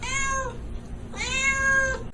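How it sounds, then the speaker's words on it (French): A cat meows twice in quick succession, each call clear, close and tonal, with nothing else heard behind it. "Faisait le chat."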